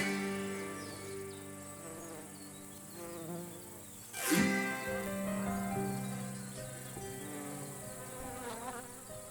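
A bee buzzes close by, a steady droning hum with harmonic overtones that swells and dips as the insect moves, peaking in a brief loud pass near the microphone before settling back to a continuous buzz.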